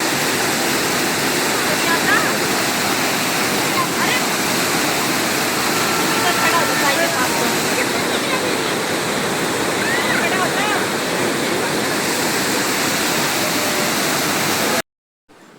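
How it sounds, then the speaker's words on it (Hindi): A small roadside waterfall on the way to Nainital in the rainy season, its flowing water rushing steadily as a loud, close, unbroken wash that cuts off abruptly just before the end. "रास्ते में ये छोटू सा हमें झरना मिला। बहते हुए पानी की आवाज़ सुनी, कितनी पीसफुल होती है।"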